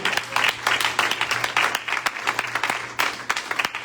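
Lively congregation applause at a church service, uneven rhythmic clapping with loud sharp claps near the front, a low steady hum underneath and scattered voices within the crowd.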